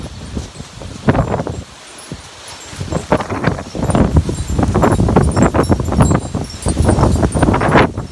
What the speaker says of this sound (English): some wicked wind blowing up here